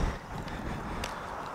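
Strong wind buffets a microphone outdoors, a steady low rumble with broadband rushing throughout, louder at the very start and with no talk.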